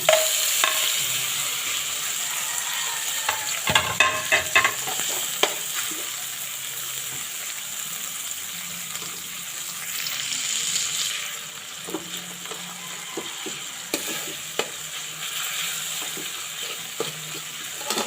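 Onion and tomato frying in a home-cooked prawn sinigang pan, a steady close sizzle broken by repeated scraping, clattering stirs of the spoon against the pan, with no talking.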